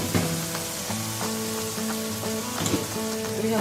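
Potatoes and fenugreek leaves sizzle and fry steadily in a pan, a close, continuous crackle with soft stirring scrapes, no voices over it.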